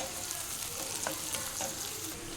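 Ginger and garlic pieces frying in a pan for chicken handi, a steady close sizzle with crackles and small pops throughout, no talking.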